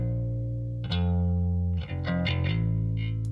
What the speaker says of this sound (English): I've got some of the high end going into the room reverb